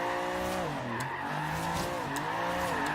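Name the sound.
car handbrake skid in Forza Horizon 3 video game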